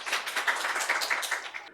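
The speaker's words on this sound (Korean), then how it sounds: "우리 하나님 박수 드립니다" A church congregation claps together in quick, fairly regular bursts, close and moderately loud, with no voices over the clapping.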